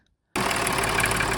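A Range Rover Sport 3.0L diesel engine, just back from an EGR valve repair, fires up after a short silence. It settles straight into a loud, steady, close-up idle with a dense mechanical clatter.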